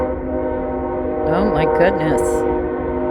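A passing train blasts a loud, sustained multi-tone horn chord close by outdoors in the cold, with a brief clatter near the end and a person exclaiming over it.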